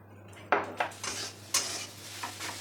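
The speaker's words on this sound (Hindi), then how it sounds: "अब इन सभी को हम अच्छे से 1 मिनट तक भूनेंगे मसालों को" Spices being stirred and fried in a pan with a spoon, soft sizzling beneath several distinct scraping clinks spaced irregularly, close and moderately quiet, with no talking.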